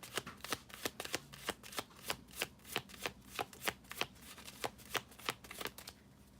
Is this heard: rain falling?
no